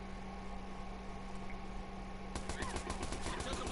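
Pistol shots in a video game at the docks: after a steady hum, a quick run of sharp repeated cracks begins partway through and continues to the end, close and moderately loud.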